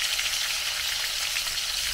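Prawns fry with ginger, onion and garlic in a home kitchen, giving a dense, even sizzle that holds steady and close for a couple of seconds, with no talking.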